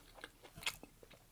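Biting into a spicy chicken street taco with hot sauce, followed by soft chewing: a handful of faint, close crunches and wet mouth sounds spread over just over a second, with no talk.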